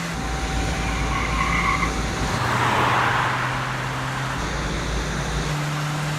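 A car in the video game Max Payne 3 drives hard with a steady engine roar and a surging hiss of tires skidding midway, loud and close, over a low droning background.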